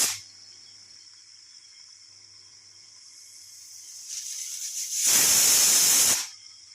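Steam hisses from a pressure cooker holding Pahari patrode, starting as a thin steady hiss, swelling, then bursting into a loud, full rush for about a second before cutting off.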